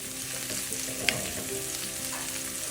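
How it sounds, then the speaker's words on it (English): Fresh chopped garlic frying in a pan over medium-low heat gives a steady, close sizzle that hisses without a break, with a brief clink near the middle. "Then I'm going to go ahead and add my fresh chopped garlic."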